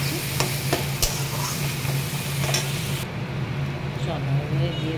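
Upma being stirred in a pan for a South Indian breakfast, with spoon scrapes and clicks over a steady frying sizzle and a low hum, while a voice speaks intermittently.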